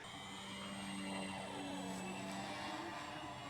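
An FMS 1400mm Pitts v2 RC model plane flies on its maiden day, its motor a faint, steady, buzzing drone with slowly shifting pitch as it passes at a distance.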